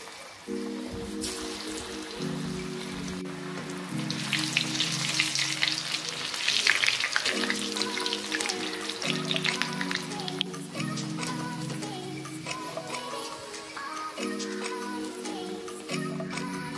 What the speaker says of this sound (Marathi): त्याच्यामध्ये मी शिजवून घेतलेले वडे सोडतो तेलात